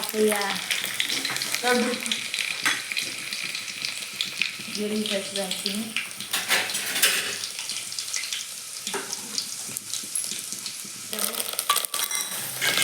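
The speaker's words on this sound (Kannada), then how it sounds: "ಈಗ ನಮ್ಮ ಮಮ್ಮಿಯರು ಸಾಂಬಾರಿಗೆ ಒಗ್ಗರಣೆ ಕೊಡಕತ್ತಾರ ರೀ" Steady sizzling of hot oil with crackling spices tempering for sambar, loud and close, broken by clinks and scrapes of a utensil and brief bursts of voices.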